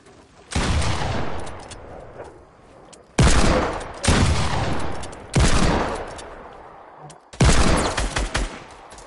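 Bursts of automatic gunfire in a Fortnite match, loud and close: four separate volleys of rapid shots, each several seconds long, with short quiet gaps between them.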